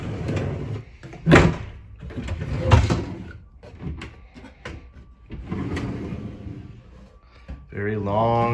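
Drawers in the vanity of a tiny house sliding open and shut, two short knocking bumps under a person talking close by.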